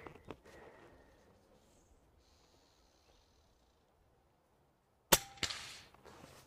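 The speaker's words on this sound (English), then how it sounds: "I'm gonna shoot that paint can down there." An AirMaks Krait PCP air rifle fires at a paint can downrange outdoors, making one sharp crack near the end followed by a brief metallic ring, after a long quiet stretch.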